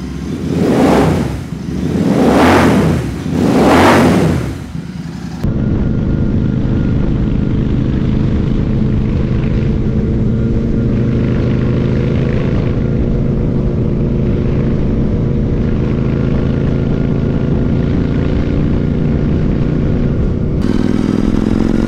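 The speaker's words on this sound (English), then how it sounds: "You can hear this exhaust in action." A custom Royal Enfield GT650 scrambler motorcycle's exhaust roars through three loud revs, then settles into a steady, throaty idle or cruising rumble that continues for a long stretch, close and loud.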